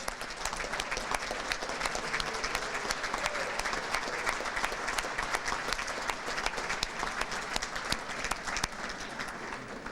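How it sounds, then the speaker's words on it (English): A dinner audience at a school athletic hall of fame ceremony breaks into sustained applause, dense overlapping clapping that holds loud and steady for the whole stretch with a faint crowd murmur beneath. "Let's give them a round of applause."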